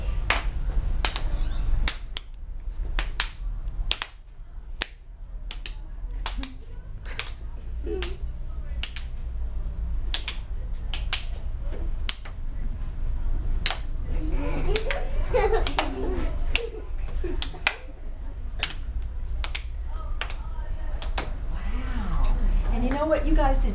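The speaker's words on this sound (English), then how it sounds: "Pass the clap." Children in a room pass a single clap from one to the next, producing a steady run of sharp, separate hand claps at an uneven pace, with a voice chattering briefly in the background.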